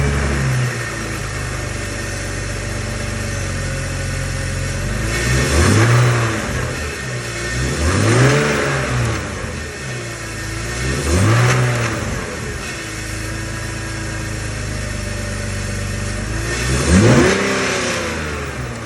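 A BMW E46 fitted with a cold air intake idles, then revs up repeatedly in several separate blips with a rising and falling engine note, loud and close, with no voices.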